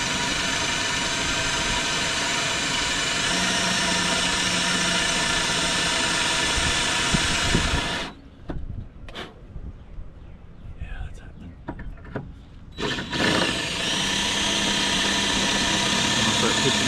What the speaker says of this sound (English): I'm kind of drilling at an angle